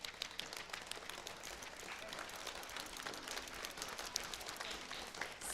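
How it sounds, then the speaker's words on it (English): A school-play audience at Timber Ridge Elementary gives the parents a round of applause: dense, steady clapping from many hands fills the hall evenly from start to finish, without a break. "So a round of applause for the parents."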